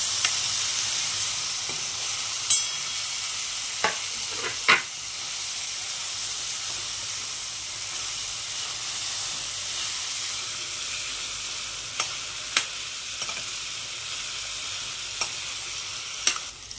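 Chopped tomatoes sauté in a pan with a steady, close sizzling hiss, broken by a few sharp scrapes and stirs of a spoon.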